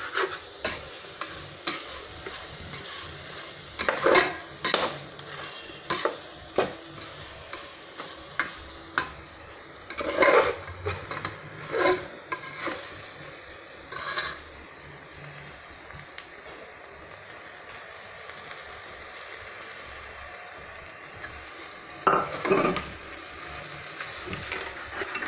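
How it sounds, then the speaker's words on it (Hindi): Cluster bean curry dries out in a pan over a high gas flame, with a soft continuous sizzle. Scraping stirs come in bursts of a second or two, spread across the stretch, with no talk. "गैस का फ्लेम एक मिनट के लिए तेज कर देंगे और इसको थोड़ा सा और सुखा देंगे"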